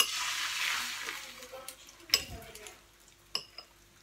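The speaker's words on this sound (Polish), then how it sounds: "Tutaj zmniejszam sobie ogień i smażę." Soft frying sizzle of a pancake fades in a pan, punctuated by a couple of sharp utensil clinks against the pan, fairly close and otherwise quiet.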